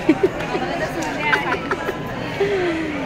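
A busy resort on an Independence Day holiday is filled with a steady murmur of crowd chatter, many voices overlapping close and far, with occasional brief louder calls rising from the babble.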